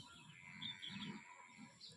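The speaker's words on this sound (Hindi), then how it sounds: "यहाँ पे चिड़िया खा रही है" Small birds feed on scattered food in a village, giving faint, high chirps and tweets over a soft outdoor background.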